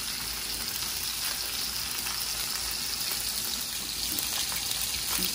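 A small piece of butter melting and sizzling in a hot pan with oil while salmon is cooked, a steady, close hiss with soft crackle and no talk.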